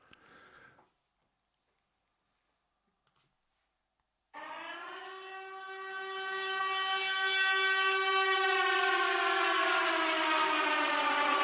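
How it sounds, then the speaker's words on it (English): After a faint blip and a few seconds of silence, a loud siren sounds and holds a steady wailing tone that swells slightly and continues to the end. "that's the manifestation siren that you've heard being triggered"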